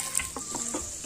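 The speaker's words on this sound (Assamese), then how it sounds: "এতিয়া মই ইয়াতে তেল অকমান দি দিছো তেলখিনি গৰম হোৱাৰ পিছত এয়া পিয়াজখিনি দি দিছো" Chopped onions fry in hot oil in a pan for pav bhaji, giving a steady, close sizzle with a few soft stirring scrapes and no voices.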